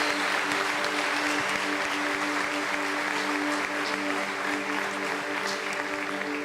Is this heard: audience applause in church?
yes